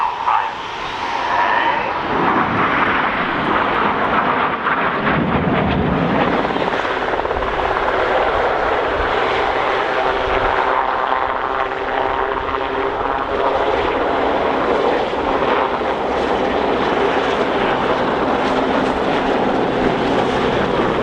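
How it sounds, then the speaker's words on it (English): Jets fly a formation display at the East Fortune Airshow in 2015, with one jet rolling around a box of four; a loud, continuous engine roar and whine carries through the whole stretch with no talking. "Now this fifth jet is going to roll around them a dozen times."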